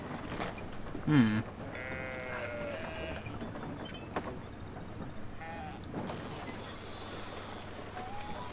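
A sheep bleats in the video game Brothers: A Tale of Two Sons, a short wavering cry near the start over a calm game backdrop with other faint animal calls and brief voice sounds.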